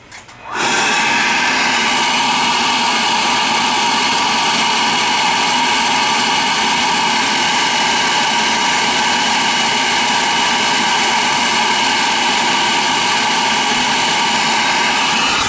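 A Riello oil burner ignites with a sudden onset and then runs steadily, a loud, constant roar with a whining hum sustained alone for the whole stretch.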